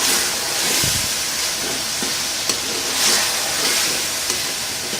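Red chili and black pepper powder being stirred into a sizzling Lahori-style chicken karahi: a steady, close frying hiss runs throughout, broken by scraping stir strokes and a few sharp ladle knocks.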